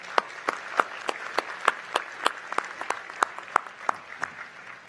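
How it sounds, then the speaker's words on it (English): A small, distant crowd at a university commencement claps for faculty musicians, sparse individual claps ringing out in a loose rhythm over a soft background wash. "Let's please give them a round of applause."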